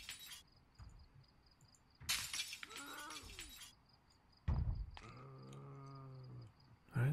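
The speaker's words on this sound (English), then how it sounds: "Start removing glass." Window glass is smashed out in the survival video game Project Zomboid, giving a loud crashing shatter. A moaning groan and another sharp crack follow over quiet game ambience.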